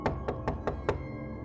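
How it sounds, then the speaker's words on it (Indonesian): A fist pounding on bedroom window glass at night gives five sharp, evenly spaced knocks in quick succession, fairly close and distinct, followed by quiet. "Terdengar suara seperti genggaman tangan yang sedang menggedor kaca jendela di tempat tidurku."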